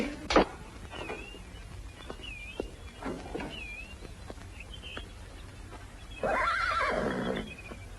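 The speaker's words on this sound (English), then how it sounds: "Looks like a fine horse." A horse whinnies in several drawn-out calls, with a louder, fuller neigh near the end, over a faint outdoor background and a sharp knock at the start.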